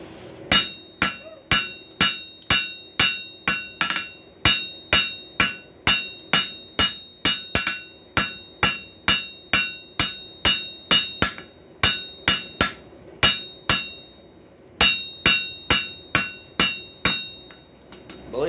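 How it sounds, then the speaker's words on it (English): A 2-pound ball peen hammer strikes a coil spring being forged, ringing out in a long, steady series of sharp metallic blows with brief pauses between runs. "that 2-pound ball peen hammer moves that metal a lot better"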